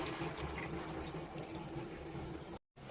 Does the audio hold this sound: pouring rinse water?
yes